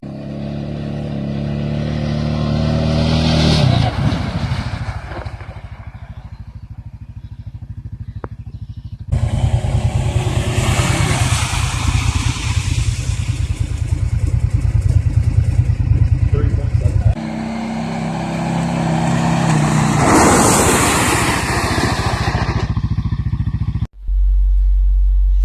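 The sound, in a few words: four-wheeler ATV driving at speed then braking to lock rear tire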